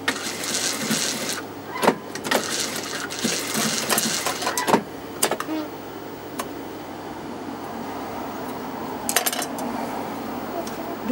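A sewing machine stitches across the bottom of a zip opening in fabric, running in several fast whirring bursts separated by pauses, with sharp metallic clicks and knocks between runs.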